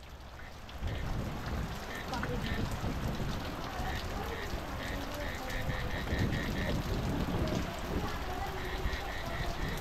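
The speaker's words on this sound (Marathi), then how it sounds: "नॉनस्टॉप पाऊस आहे" Steady evening rain falls in a dense continuous patter on surfaces, close and even throughout, with some brief rhythmic tapping beneath it and no clear speech.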